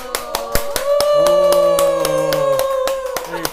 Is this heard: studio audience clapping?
yes